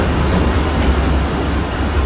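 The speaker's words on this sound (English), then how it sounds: "please remain seated until the train comes to a complete stop" A Disneyland Railroad train arriving at New Orleans Square Station makes a continuous, loud rolling rumble with a broad hiss of wheels on track, heard alone without voices.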